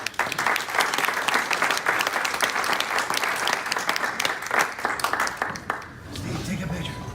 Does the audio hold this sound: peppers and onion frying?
no